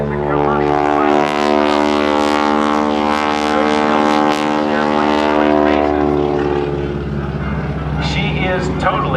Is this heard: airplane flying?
yes